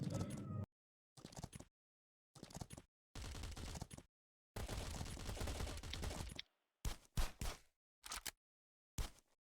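Gunfire in the mobile survival game Last Island of Survival, heard as loud bursts of automatic fire chopped into separate rattling volleys with short silent gaps, followed by a few shorter single bursts near the end.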